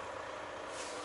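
A semi truck with a refrigerated trailer pulls up at a fuel station in Sulphur Springs, Texas, giving a brief, steady, fairly faint hiss of air brakes with no talking.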